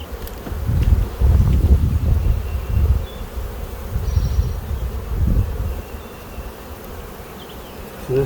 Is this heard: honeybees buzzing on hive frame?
yes